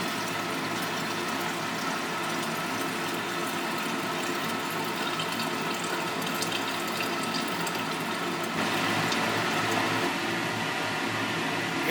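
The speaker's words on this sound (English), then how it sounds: "we're going to go ahead and pour off the distilled water rinse here" Distilled water rinse poured off refined gold into a stock pot, a steady close splashing and trickling of liquid that runs unbroken and swells slightly near the end.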